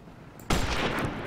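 A shotgun blast in the farming shooter game Shotgun Farmers, a single loud, sudden shot with a sharp onset followed by a sustained noisy burst over about a second.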